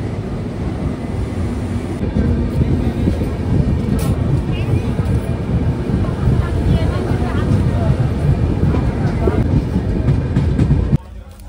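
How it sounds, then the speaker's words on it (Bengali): The Jammu Tawi Express pulls out of Bareilly station, a loud, steady rumble of rolling wheels and carriages that stays close and constant before cutting off at the end. "আর 5:40-এ আমাদের ট্রেন বারেলি স্টেশন থেকে ছেড়ে দিল।"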